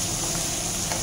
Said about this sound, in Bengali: তারপর একটু নাড়া দিই